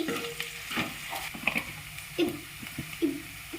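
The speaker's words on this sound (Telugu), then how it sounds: "మంచిగా వేరే గోల్డెన్ కలర్ వచ్చేదాకా బ్రౌన్ కలర్ వచ్చేదాకా కలపాలి" Goat offal curry (Telangana boti kura) being stirred in a frying pan until browned, with a soft steady sizzle under repeated close scraping and clinking strokes of a spoon against the pan.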